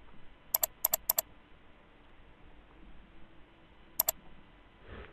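Keys clatter on a computer keyboard in three quick clusters of crisp taps, then pause before one more short pair of clicks, all close and faint over a steady low hiss, with no talking.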